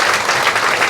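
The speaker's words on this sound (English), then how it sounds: "That's a round of applause." An audience at a panel discussion applauds in a steady, dense burst of clapping that fills the whole moment at an even level, with no voices standing out.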